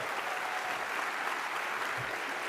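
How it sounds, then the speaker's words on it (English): A big round of applause at SXSW 2024 for the festival staff, dense sustained clapping from a large crowd with no voices over it. "Let's give them a big round of applause"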